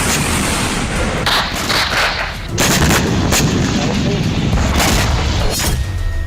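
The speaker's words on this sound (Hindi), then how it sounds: "हमास के लड़ाके सुरंग में मौजूद हैं, वहीं से इजरायली सेना पर मोर्टार से हमले कर रहे हैं।" Mortar fire from a Hamas tunnel position aimed at Israeli troops in Gaza: repeated sharp booms and gunfire-like blasts crack loudly over a constant rumbling din, with a heavier burst near the middle, and voices faintly audible in the background.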